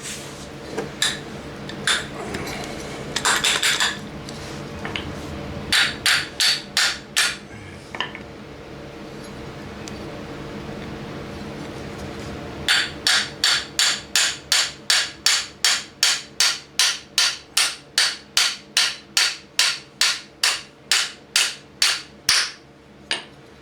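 A hammer strikes metal again and again to knock a key out of a pulley on a Dixon mower deck, sharp ringing clanks in short clusters, then a long steady run of evenly spaced blows.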